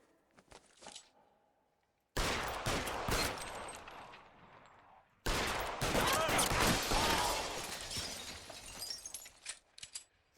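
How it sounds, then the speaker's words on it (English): A gunfight in the video game L.A. Noire starts after a quiet lead-in with a few faint sounds, then erupts into loud, dense bursts of gunfire with shattering, breaking glass, pausing once before a second barrage that tapers into scattered shots. "Gunfight."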